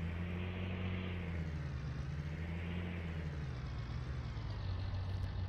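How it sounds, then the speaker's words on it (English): An old tractor engine runs steadily while discing corn stalks, a low, even drone with a slowly wavering pitch and no talking. "just really amazed at how uh, quiet this old tractor is"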